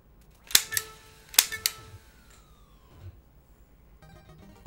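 Bright electronic gunshot blasts from the NES game Duck Hunt, two close pairs of shots, followed by a falling game tone and faint chiptune beeps afterward.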